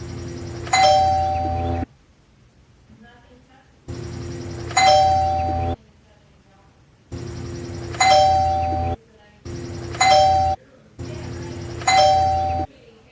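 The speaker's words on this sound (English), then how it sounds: "remember, don't ring the doorbell" A doorbell rings five times in separate bursts, each a clear bright chime with a ringing tone, separated by near-silent pauses.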